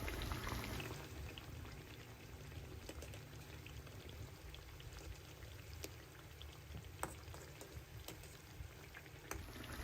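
Bellam appalu, sweet jaggery fritters, frying in hot oil, giving a dense, steady sizzle and crackle with scattered small pops that carries on without a break and without talk.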